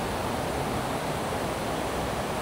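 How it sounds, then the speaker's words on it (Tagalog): Steady, dense roar of the Rhine Falls waterfall in Switzerland, a loud, close and unbroken rush of falling water with no pauses. "ang lakas kasi ng agos ng tubig"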